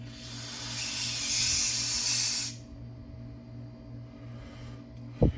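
A loud, steady aerosol hiss sprays out a Yamaha YZ490 carburetor emulsion tube for about two and a half seconds and cuts off, leaving a low hum, then a short sharp click.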